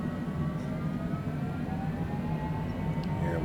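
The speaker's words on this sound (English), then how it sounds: "Taxi over to our active runway." A light aircraft taxis toward the active runway at San Antonio airport, its engine a steady droning hum with a faint whine, heard from inside the cockpit without a break and with no voices.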